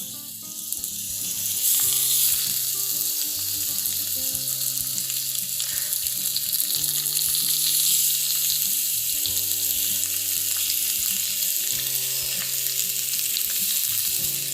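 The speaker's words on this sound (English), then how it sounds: "Let's go ahead and lay your shrimp in." Raw shrimp laid into hot oil in a frying pan for pan-fried shrimp cocktail hiss and sizzle loudly and steadily throughout, a dense crackling spatter over a light musical background, with no talking.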